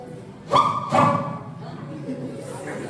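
Dog in a stage skit giving two short, sharp barks close together, followed by softer whimpering whines against a quiet room background.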